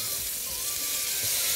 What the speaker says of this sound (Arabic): ابتدي بقى اشوح كده اللحمه اهي